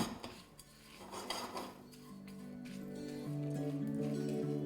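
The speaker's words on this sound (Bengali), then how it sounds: "এরপর সামান্য একটু নুন দিয়ে রেখে ভালো করে ড্রাই রোস্ট করে নিন।" Cumin, fennel seeds and whole black peppercorns with a pinch of salt dry roasting in a pan, with clinks of a metal utensil against the pan at the start, then a soft, steady hum underneath.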